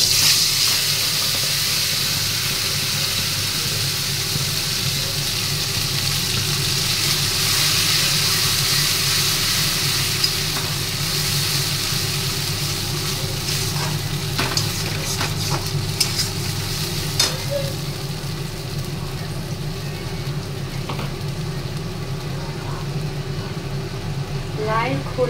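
Dried chili pieces and nigella seeds frying in oil in a wok, giving a steady, continuous sizzle with occasional stirring clatter throughout.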